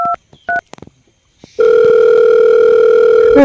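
Several short telephone keypad tones beep, then after a brief pause a loud, steady phone line tone holds continuously, close and clear with no speech.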